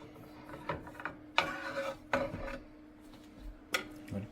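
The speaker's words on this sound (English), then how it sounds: "Let's cut a slice." A knife saws through a loaf of freshly baked sweet bread from a bread maker, giving several scraping, rasping strokes with soft knocks against a board, close and fairly quiet.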